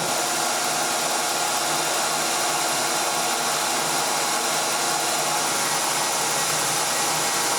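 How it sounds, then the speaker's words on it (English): A power drill bores all the way through a part during a repair that adds rollers, giving a steady, loud whirring drone that holds evenly from start to finish with no voices. "Drilling all the way through."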